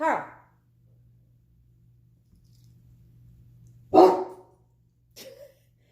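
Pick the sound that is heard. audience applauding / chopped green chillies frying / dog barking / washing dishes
dog barking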